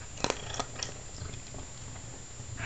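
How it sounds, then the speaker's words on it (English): A cat purrs close by while eating, a soft continuous rumble with a few brief clicks and chewing-like ticks near the start, and no talking. "Listen to him purr."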